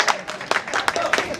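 Brief burst of audience clapping at a comedy stage show, a few uneven sharp claps rising over the crowd with a lively, scattered texture.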